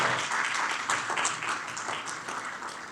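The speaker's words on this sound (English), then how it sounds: "Give them a round of applause." A town hall audience at Bowie State applauding the faculty, a dense, moderately loud burst of many hands clapping that swells briefly and then tapers off over a few seconds.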